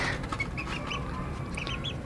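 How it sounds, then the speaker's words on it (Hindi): Fancy hens and a rooster cluck and chirp in short, scattered calls over a rough, busy background, several brief bird sounds close by with no talking. "ये जो अच्छा बाहर आगे आगे बच्चा आ रहा है, ये मुर्गा है।"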